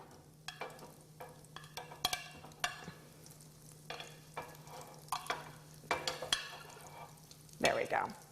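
Panko-breaded zucchini going into a Waring Pro DF280 brushed-stainless three-basket deep fryer, with intermittent sizzling bursts and clinks over a low steady hum, ending in a louder bubbling crackle.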